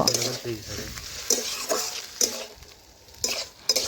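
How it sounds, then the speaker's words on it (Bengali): Mutton with papaya and potato is stirred in a pan, a spoon scraping and knocking in several bursts over a soft sizzle, close and fairly loud with short pauses between strokes. "আমি এভাবে নাড়াচাড়া করে একটু কষে নিলাম"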